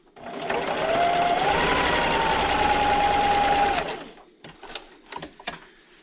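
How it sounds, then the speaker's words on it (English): A sewing machine stitches quilt strips in one steady whirring run of about three seconds, loud and close, then stops, followed by a few clicks and light handling noises. "I'm just going to sew right down my side"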